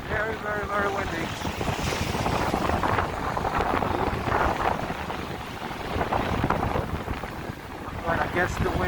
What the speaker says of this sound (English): Going against the wind right now,